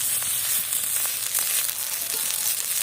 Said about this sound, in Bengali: খুব হালকা আঁচে ভাজতে হবে নাহলে পাতাটা পুড়ে যাবে ভেতরে মাছটা সেদ্ধ হবে না